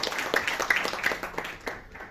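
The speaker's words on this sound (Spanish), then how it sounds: "Un fuerte aplauso para nuestro Señor" A church congregation applauding during a sermon, a dense, uneven patter of many hands clapping at once that carries on for a couple of seconds before thinning slightly.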